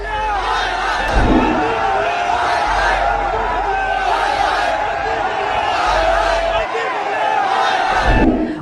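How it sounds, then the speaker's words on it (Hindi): Protesting crowd at a farmers' mahapanchayat in Muzaffarnagar chanting slogans against a news anchor and her channel, loud rhythmic group shouting in repeated waves, with babble and voices mixed in throughout. "उनके खिलाफ नारेबाजी हुई, उनके चैनल के खिलाफ नारेबाजी हुई, गोदी मीडिया के खिलाफ नारेबाजी हुई"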